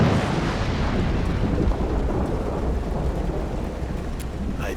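Steady heavy rain with low rumbling thunder in the video game Road 96, a dense, loud, continuous wash of noise running the whole time with no voices.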